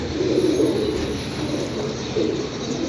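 Pigeons in a loft give low, rolling coos that rise twice over a steady background hum, fairly close.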